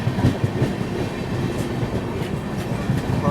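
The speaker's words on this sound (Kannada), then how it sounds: "Konark overtaking Humsafar express." The Konark Express overtaking the Hamsafar Express makes a steady, close rumble with continuous wheel clatter and rattling carriages.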